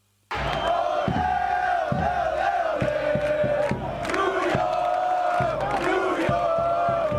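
Stadium crowd in the Football Manager 2018 video game roars continuously at full voice throughout a sold-out Yankee Stadium derby, with swelling chants and cheers and no break.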